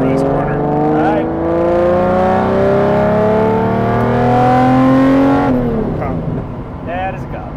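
A Lamborghini Diablo SV accelerates hard on a road near Monterey, revving toward 8000 rpm through rising gear pulls. The loud, close engine note ends in a sharp drop as the driver lifts, and voices briefly follow.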